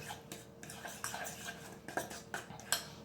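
Spoon stirring cake batter for a microwave pineapple upside-down cake in a mug, faint repeated clinks and scrapes against the mug in an irregular rhythm, close up and quiet with no talking.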